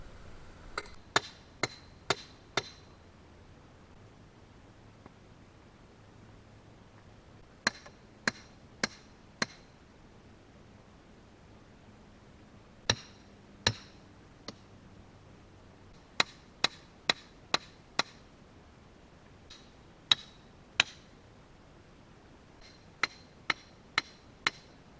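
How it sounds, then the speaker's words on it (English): Sharp metallic hammer blows drive rebar and stakes into the ground beside a pond, struck in quick bursts of three to five hits separated by pauses, ringing and fairly close in an otherwise quiet outdoor setting. "Now we'll finish pounding in the rebar and the stakes"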